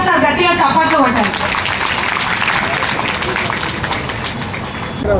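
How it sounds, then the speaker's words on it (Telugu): An audience clapping at an outdoor Congress government sari-distribution event for women at a grounds in Monda division, Hyderabad; a voice trails off at the start, then dense, loud applause holds steady before easing slightly near the end. "అందరూ ఒకసారి గట్టిగా చప్పట్లు కొట్టాలి."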